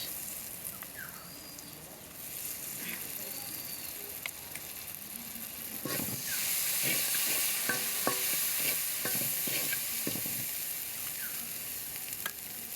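Ginger and garlic paste sizzles as it fries in a pan, with stirring scrapes that grow busier midway. Faint birdsong chirps in the background, and no one speaks.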